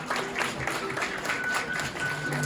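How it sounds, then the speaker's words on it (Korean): Warm applause from wedding guests in a banquet hall ceremony, a steady wash of many hands clapping at moderate distance with faint tonal background sound running underneath. "여러분 따뜻한 박수 부탁드리겠습니다"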